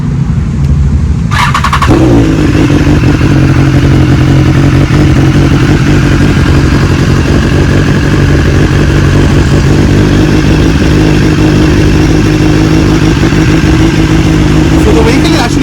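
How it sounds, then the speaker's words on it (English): A BMW S1000RR sport bike cold-starts with a brief crank, then settles into a loud, steady, rumbling idle that holds close and unbroken for the rest of the stretch. "so the vehicle is actually very loud right now"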